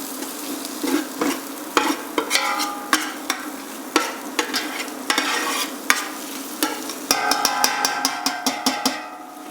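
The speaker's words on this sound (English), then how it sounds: "Give that a good stir." Chicken mulligatawny soup ingredients being stirred as they fry in a pot, a steady sizzle broken by repeated scraping strokes of the spoon against the pot, close and moderately loud throughout.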